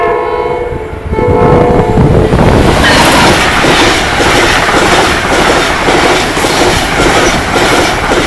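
An Amtrak train passing close, a loud, dense roar of rolling wheels and rail clatter that builds within the first second and holds steady to the end.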